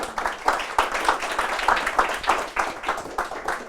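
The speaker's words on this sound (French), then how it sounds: "Hélène Thauvin qu'on peut accueillir sous vos applaudissements." A seated audience at a conference welcomes a speaker with applause, a moderate gathering clapping steadily in a room with a slightly muffled, even rhythm of individual claps that holds for several seconds.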